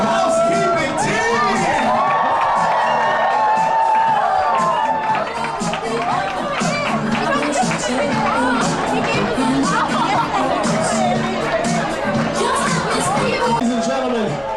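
A cruise ship crowd cheers, whoops and chatters loudly for the housekeeping crew on board, a dense continuous roar of voices with children shouting, steady for the whole stretch.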